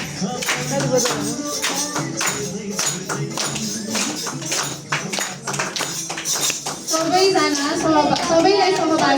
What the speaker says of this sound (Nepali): ताली बजाउनु न, ताली बजाउनु।